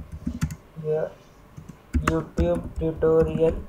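Typing on a computer keyboard while setting up a project online, clicking keystrokes in short bursts beneath a voice explaining the steps.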